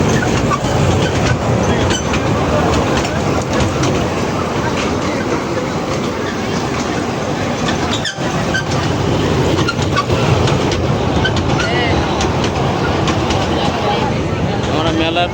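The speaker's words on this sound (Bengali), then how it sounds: "এখন অনেক সুন্দরভাবে ট্রেন যাচ্ছে" A toy train runs at a flooded village fair, its wheels giving a continuous loud rattling clatter with faint squeals throughout, while people talk over it.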